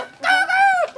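A single chicken on a farm gives one drawn-out, tonal squawking call lasting under a second, close and clear, with no talk over it.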